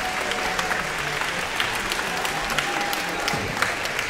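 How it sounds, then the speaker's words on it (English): An audience applauds Ms. Bell and Mr. Kirkpatrick at a school Polar Express concert, with steady, dense clapping that fills the hall evenly and continues without a break. "So a round of applause for them, please."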